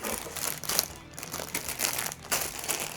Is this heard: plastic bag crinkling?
yes